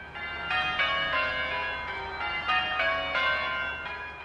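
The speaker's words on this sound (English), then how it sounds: "The bells marking the start of the pageant." Church bells on a floating belfry peal at Queen Elizabeth's Diamond Jubilee river pageant in a repeating pattern of bright, ringing strikes, moderately loud with a lingering resonant tone and no voices.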